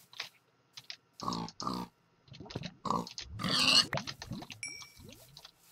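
Pigs grunt and oink in a Minecraft-style video game, several short snorts and squeals scattered unevenly, interleaved with other game sounds and a bright bell-like chime.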